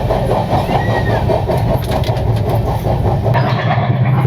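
Steady low rumble and rattle of an AC first class LHB coach train on the move near Kolkata, a constant loud drone with faint squeaks and clatter throughout.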